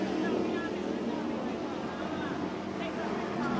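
A race powerboat fitted with Mercury 525 engines roars steadily at speed during a grand prix off Cocoa Beach, a dense continuous drone under a voice.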